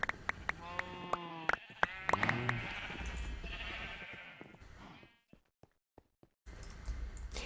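Sheep bleat repeatedly in Minecraft, several clear game bleats over the first few seconds against light clicking and a soft tonal background, which drops away briefly before resuming.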